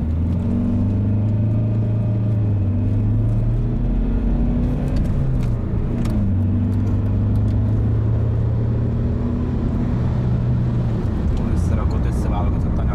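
A 2002 BMW 320d diesel saloon driving, with a steady low engine drone and changing tones as it shifts through revs, heard from inside the car with constant road and wind noise.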